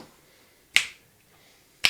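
Chris snaps his fingers twice, crisp and close, each snap a sharp isolated click roughly a second apart with quiet in between.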